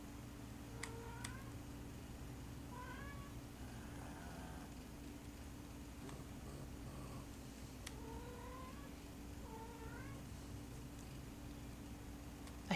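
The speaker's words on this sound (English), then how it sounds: "I hear a cat meowing," A cat meows in the survival video game Project Zomboid, several faint, short mews spaced across the stretch over a low steady ambient hum.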